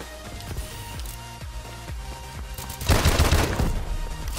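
Call of Duty: Advanced Warfare gunfire: a run of rapid, evenly spaced single shots, then a louder dense burst of automatic fire in the final second and a half.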